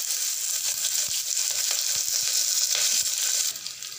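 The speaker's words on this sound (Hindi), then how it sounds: "जो रफली प्याज काट करके ली थी उसे डाल दूंगी और इसे डालकर बस हमें एक से दो मिनट ही भूनना है।" Roughly chopped onion fries in a pan for a dhaba-style lauki aloo sabzi, a steady close sizzle with scattered small pops and stirring clicks that fades slightly at the end.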